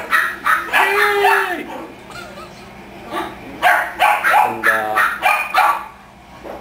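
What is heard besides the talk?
Boston or French Bulldog barking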